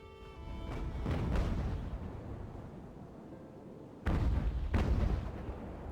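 Ship cannon fire in an Age of Sail naval battle from Ultimate Admiral: Age of Sail: deep booming broadside blasts, a pair early and a heavier pair later, with rumbling low roar sustained between volleys.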